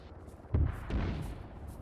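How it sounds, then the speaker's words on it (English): Mortar rounds firing during a military exercise, heard as a muffled low boom followed by a second rolling thump, distant and dull beneath steady background hiss. "mortars are engaging"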